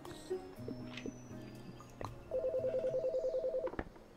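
A telephone at a phone booth in the Chicory video game dials with a few short beeps, followed by a steady warbling ring tone, quiet and clear with no talk over it.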